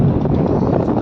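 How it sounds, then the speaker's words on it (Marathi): Strong wind buffets the microphone at Arnala beach, a loud, continuous rumble and roar that fills the whole moment without a break, with only brief shifts in force. "सॉलिड वारा आहे."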